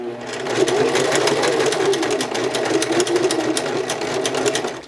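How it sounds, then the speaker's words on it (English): A sewing machine runs steadily through a wide zigzag stitch at a stitch length of 3, a loud continuous mechanical whir with rapid regular needle ticks and no break for the full duration. "As you can see, I'm getting a really wider zigzag stitch"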